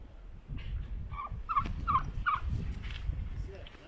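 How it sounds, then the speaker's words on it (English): A baby turkey gobbling in a few quick high chirpy bursts, close but fairly faint over a low background rustle. "It's a baby turkey."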